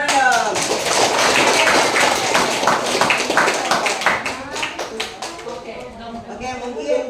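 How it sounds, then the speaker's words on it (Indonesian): Audience at a school orientation session claps hands together, a dense burst of taps that thins out toward the end, with a voice talking over part of it. "Tepuk tangan dong."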